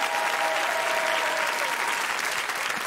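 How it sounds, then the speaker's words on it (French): A large audience at a holiday choral concert applauds Orthodox priests with steady, dense applause that holds evenly throughout, a faint sustained tone threading through the early part. "on peut les applaudir très fort"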